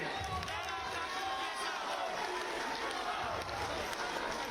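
A large outdoor crowd at a Himachal Pradesh state anniversary ceremony claps steadily to honour the chief minister, a dense unbroken wash of applause and crowd noise with voices mixed in.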